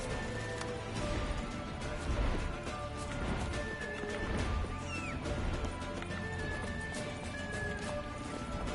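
Roach, a horse in The Witcher 3: Wild Hunt, gallops with steady hoofbeats while neighing and whinnying rise over dense game ambience and music throughout.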